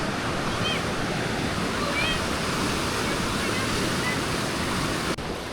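A river runs through a mountain town in Buena Vista, Colorado, its flowing water making a loud, continuous broadband rush close by, with faint birdlike chirps above it and a brief knock near the end.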